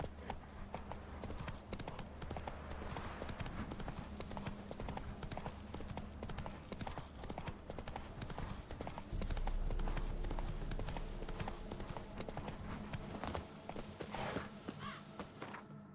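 A horse galloping in The Witcher 3, a fast steady clip-clop of hooves running throughout at moderate level, with a brief louder rumble midway.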